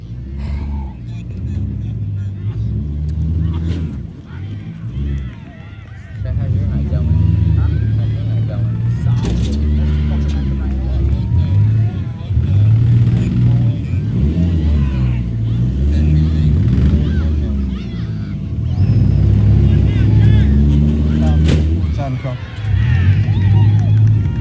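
Demolition derby cars in the MWFA class at Upperco rumble, rev and lurch while bumping and maneuvering. Their engines surge loudly and fade under continuous announcer commentary.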